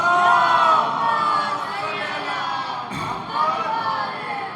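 A crowd at a Jashn-e-Wiladat celebration for Hazrat Fatima chants the salawat in unison, a loud, dense roar of many voices that dips briefly midway and then swells again.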